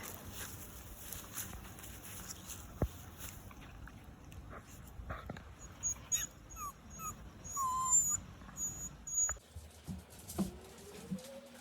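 A small puppy in a room being cleaned gives faint whimpers and soft high squeaks, scattered and intermittent over a low household background with light tapping and patter.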